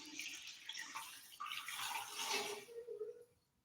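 Water poured from a mason jar in a home kitchen, a continuous splashing pour for about three seconds that tapers off, moderately close.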